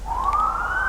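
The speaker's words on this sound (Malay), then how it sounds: "tiba-tiba kedengaran bunyi siren" A police car siren in Malaysia sweeps upward in one long, steady rising wail, loud and continuous over a low background rumble, with no voices.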